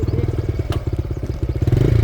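A stuck motorcycle's engine putters with a fast, throbbing rhythm close by, revving slightly toward the end.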